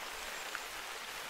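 Rain in the hunting game theHunter: Call of the Wild, a soft, steady hiss of falling rain without pause and with no distinct drops.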